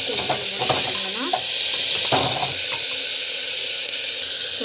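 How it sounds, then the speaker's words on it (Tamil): Onions frying in a pan with garlic and cumin, a loud close hiss of sizzling oil with a few scraping stirs of a spatula early on, continuous and without speech. "வெங்காயம் போட்டுக்கிட்டு நல்லா வந்து வதக்கும்"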